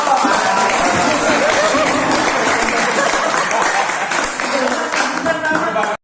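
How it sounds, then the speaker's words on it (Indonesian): A room full of people at a community ceremony claps steadily for several seconds, with some chatter mixed in, before the applause cuts off abruptly. "Tepuk tangan buat Pak Cek"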